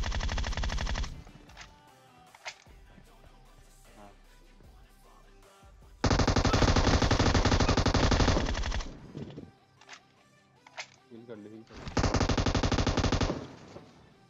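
Bursts of automatic gunfire from the battle royale game PUBG, loud sustained volleys in three main stretches with scattered single shots and quieter game sounds between.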